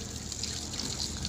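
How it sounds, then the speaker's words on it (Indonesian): A coarse, large-pored aquarium filter sponge is rinsed in plain water, giving a steady, close trickling and sloshing with no speech. "Nah ini yang kasar, yang pori-porinya lebih besar, dibilas saja"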